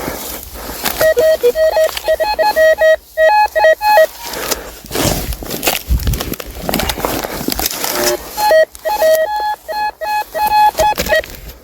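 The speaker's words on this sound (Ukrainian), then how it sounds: "Є ще один сигнальчик. Дуже в принципі хороший." A handheld metal detector gives repeated sharp electronic beeps in rapid stuttering bursts, loud and close, pausing in the middle amid rustling and digging noises before the beeping returns.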